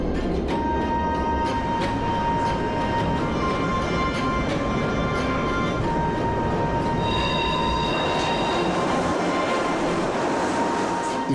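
A train rolls slowly through stations with a constant loud rumble, rhythmic wheel clatter and high steady whining and squealing tones from the wheels.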